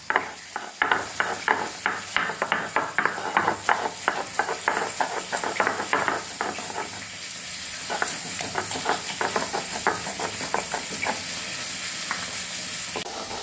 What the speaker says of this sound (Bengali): আর কাঁচা লঙ্কাটা ছিল, আদাটা ছিল, রসুনটা ছিল, এটা আমি দিয়ে দেবো। এটা আমি সুন্দর করে বেটে নেব।